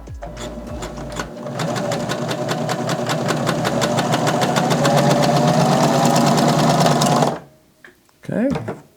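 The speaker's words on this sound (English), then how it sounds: "We're going to put it through the machine and you'll see how this gathers up." A Baby Lock Vibrant sewing machine gathering a single ply of fabric runs in a steady, fast mechanical chatter for about seven seconds, then stops abruptly; a voice follows briefly.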